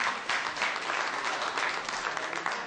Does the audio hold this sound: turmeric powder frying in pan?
no